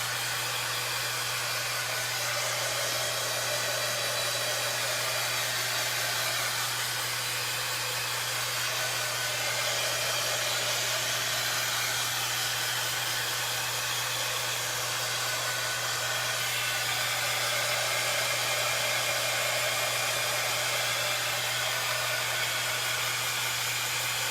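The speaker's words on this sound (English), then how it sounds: "And then I'm going to go back in with my heat tool." A heat tool blows hot air steadily over spring subway-sign craft decor, a constant broadband whoosh with a low motor hum running unbroken and close for the whole stretch, no talking.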